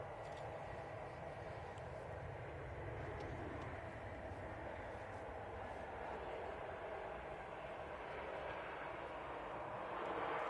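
A large airliner touching down after an early flare and a floaty float, its broad engine roar steady and fairly distant throughout, swelling slightly at the very end.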